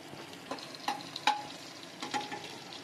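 Chicken frying in refined oil and ghee in a home kitchen pan, a soft steady sizzle broken by several sharp crackles and spatters, close and fairly quiet.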